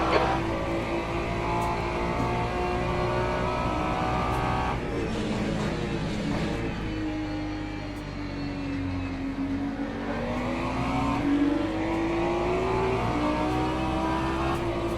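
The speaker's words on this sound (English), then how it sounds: "There's a faster car bearing down on you. He's the class leader." Race car engines rev, shift and whine in the Le Mans Ultimate sim at the 8 Hours of Bahrain, a loud continuous drone with rising and falling pitch as gears change and faster cars close in.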